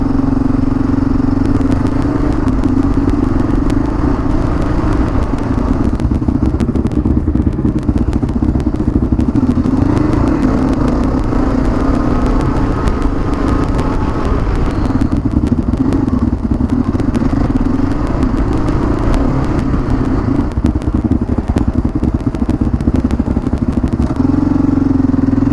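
Motorcycle riding captured by a helmet-mounted microphone, a steady loud engine drone with heavy wind buffeting continuing throughout, no speech.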